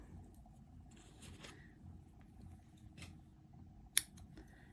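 Quiet snipping of scissors cutting yarn while finishing a crochet piece, with soft rustling handling noises, ending in one sharp, crisp cut near the end.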